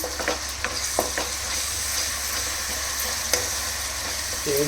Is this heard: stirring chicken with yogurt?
yes